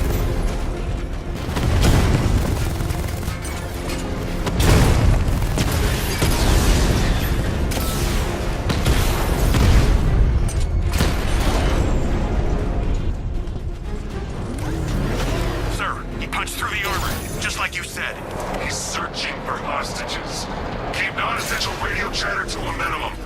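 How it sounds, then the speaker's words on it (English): A 60mm cannon blasts heavily armored tanks in the Batman Arkham Knight video game, with repeated loud booming shots and explosions across a dense battle soundscape, mixed with voices talking throughout. "Your 60mm cannon will penetrate these heavily armored units,"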